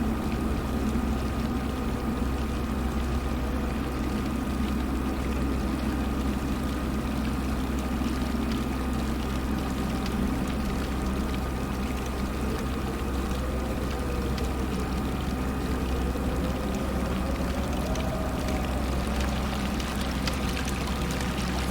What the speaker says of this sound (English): So that's where the sound of water is coming from.